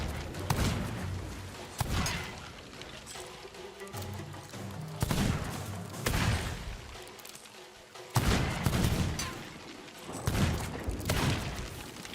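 Gunfire in a video game comes in repeated loud bursts and volleys, with thuds and impacts throughout and no talking over it.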